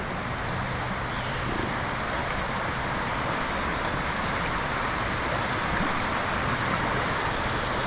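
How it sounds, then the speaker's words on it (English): Steady broadband rushing of flowing water from a creek in the woods near Juneau, Alaska, constant and close, with no voices. "There's a river right here, or a creek, I guess."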